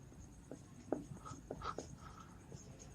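Chalk or marker writing on a board during a rigid body mechanics lecture: faint, close scratchy strokes and taps in short irregular bursts, with a quiet room behind.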